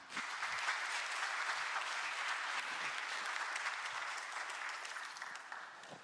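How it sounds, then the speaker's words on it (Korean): An audience at a government policy report event applauds steadily, a dense, even patter of many hands that carries on throughout at moderate volume. "다시 한번 박수 부탁드립니다."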